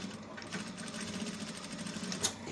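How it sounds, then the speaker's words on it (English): A sewing machine runs steadily and quietly as it stitches closed a welt pocket on a waistcoat, a soft continuous whirr without pauses or voices. "So the next thing you do, you sew this part closed."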